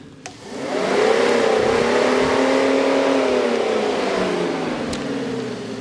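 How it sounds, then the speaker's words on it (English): An electric radiator fan blows air through a garage with a loud, steady whooshing hum. It spins up quickly at the start, then holds at a slightly wavering pitch that slowly drops. "Radiator fans have good flow."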